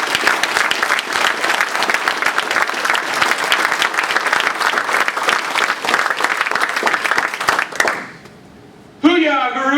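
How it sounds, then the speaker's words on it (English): Loud, sustained applause and clapping from a crowd at a Navy retirement gathering, steady for about eight seconds before cutting off abruptly, then a single voice talking over the quieter room. "let's give them a round of applause that they can hear over there at those parties."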